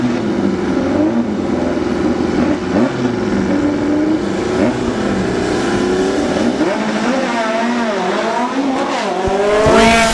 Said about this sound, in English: He'll be chased down by the dragster of Overstreet in the Tower side.